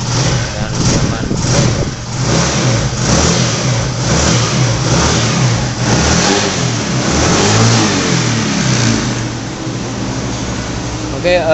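A Honda Xeon 125 GT motorcycle engine, just repaired after an electrical fault, runs and revs up close in a workshop, its mid-pitched drone rising and falling steadily with someone talking over it.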